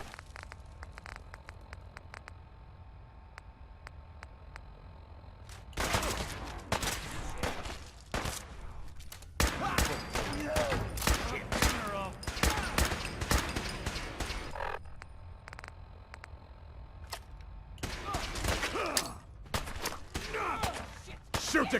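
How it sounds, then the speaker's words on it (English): Gunfire erupts in Fallout 4 during a Brotherhood of Steel firefight: loud, dense bursts of rapid shots and crackling volleys come in several waves, with quieter gaps between them. "Taking fire!"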